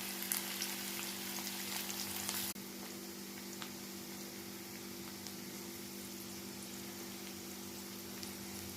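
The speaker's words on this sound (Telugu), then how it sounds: "ఉల్లిపాయలు బాగా వేగాలి" Onions, green chillies and curry leaves frying in a pan, a steady hissing sizzle that is louder for the first couple of seconds and then settles into a quieter, even crackle over a faint background hum.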